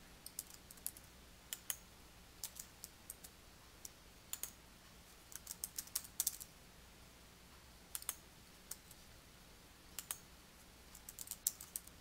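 Computer keyboard typing while entering text into a SmartArt graphic in Microsoft Word, heard as irregular bursts of close, crisp key clicks with short pauses between runs, no voices.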